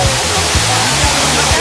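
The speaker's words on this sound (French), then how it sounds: "magnifique cascade Langevin" Langevin waterfall on Réunion roars as a loud, steady broadband rush of falling water, continuous and close, with faint voices beneath the torrent.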